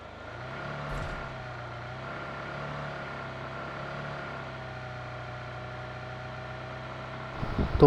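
A vehicle engine drones steadily while driving in the BGMI mobile battle royale game, a continuous mid-level hum with slight surges, heard alone with a louder bump at the very end.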